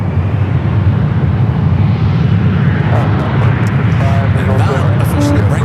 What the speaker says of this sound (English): On the right-hand side, United Express SkyWest Flight 4763 coming in from Albuquerque